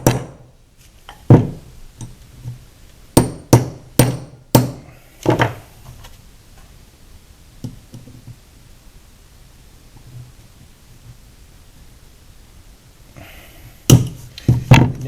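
A hammer strikes a large stuck circlip on a John Deere JD410 backhoe hydraulic cylinder, sharp close metallic blows in a quick cluster of about six, then a pause and a final burst of hits.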